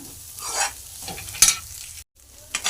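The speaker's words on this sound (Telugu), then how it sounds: "ధనియాల పొడి అయితే వేసుకున్నాక మొత్తం అయితే ఒకసారి కలుపుకోండి" A spoon scrapes and tosses fried rice with coriander powder around a hot pan in several close, uneven strokes over a light sizzle, with a short silent gap near the end.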